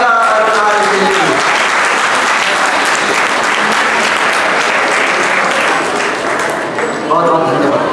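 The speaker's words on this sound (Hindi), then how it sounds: "जोरदार तालियां के लिए।" Loud, dense audience applause at a Miss Yoga India event, sustained clapping from a large crowd that briefly overlaps a voice at the start and end.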